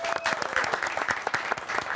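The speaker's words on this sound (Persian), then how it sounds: "تشویق کنید" Studio audience applauding on a talk show, a brief, dense burst of clapping with sharp individual claps, fairly quiet overall.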